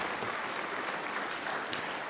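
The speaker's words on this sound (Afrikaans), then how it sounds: "Kom ons gee vir Kobus hande klap" A church congregation applauds for a few seconds during a morning service. The clapping is dense and even, with no voices over it.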